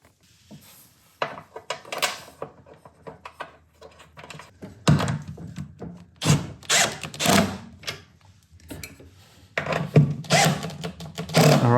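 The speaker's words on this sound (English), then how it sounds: "So we'll just line up holes and" A cockpit mount being screwed into place with a power tool: several loud bursts of whirring and clattering separated by quieter handling noises and short pauses, close by, with no speech.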